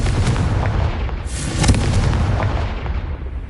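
A Confringo blasting spell explodes in the Hogwarts Legacy video game: a loud, booming burst with a rumbling, crackling tail that fills the whole moment, with no speech over it.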